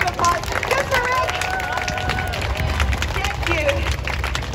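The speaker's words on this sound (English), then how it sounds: "Can we just get one huge round of applause?" A crowd claps and cheers for a performer at an outdoor entertainment show, with steady applause mixed into loud hubbub and raised voices throughout.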